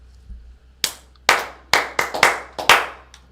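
A single person claps hands in a sparse, uneven series of about seven sharp, close claps, dry and loud against a quiet background during a live football call-in show.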